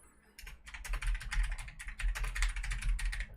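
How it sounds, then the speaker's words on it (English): Typing on a computer keyboard, a rapid, close run of key clicks in bursts with brief pauses, loud and alone without speech. "When you guys hear me typing"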